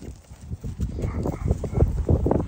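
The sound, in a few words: horses moving on a windy field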